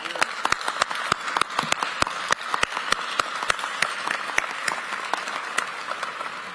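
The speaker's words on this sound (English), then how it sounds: "let's take a moment and give you a huge round of applause" Crowd applause at a welcome home ceremony for an infantry brigade's soldiers and families, a steady wash of many hands clapping with sharp individual claps standing out, sustained and fairly loud throughout.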